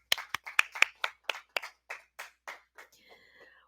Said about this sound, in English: Lene, everyone give her a round of applause.